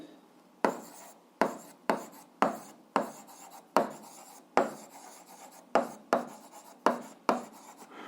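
Pen or marker strokes on a board or paper while writing out an algebra equation, about a dozen short scratchy bursts in an irregular rhythm, close and clear with no talking.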